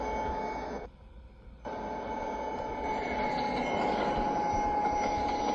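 SD40-2 diesel locomotive running in the Trainz video game on the Summer Lake Valley route: a steady, loud rumbling drone that drops away briefly near the start, then returns and holds.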